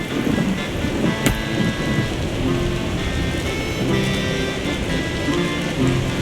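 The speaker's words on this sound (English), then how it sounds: "Once again, a thunderous storm hit the mountains." A Dungeons 4 video game thunderstorm over the mountains: dense, steady rain hisses throughout, with one sharp thunder crack early on and rumbling underneath.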